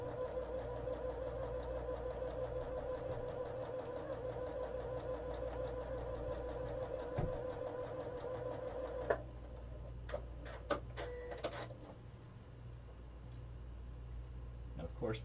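Sewing machine stitching 2.5 by 5 inch quilt pieces onto colored strips for a pineapple block, running in a steady close hum with a faint rhythmic tick, then stopping and giving a few soft clicks.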